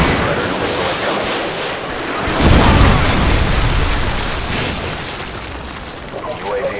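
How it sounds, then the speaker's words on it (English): A Predator missile explodes in Call of Duty on the Highrise map, a loud deep boom that swells midway and rumbles on, amid gunfire and game voices. "Predator missile ready for launch"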